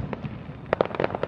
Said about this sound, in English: Guys, you're missing the fireworks, guys.